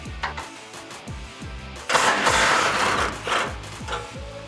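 Bumper bolts on a 2016-2018 Silverado 1500 come out with an 18 mm socket: rapid ratchet clicking in quick bursts, then a loud, continuous whirring rush of a powered tool, close up and alone.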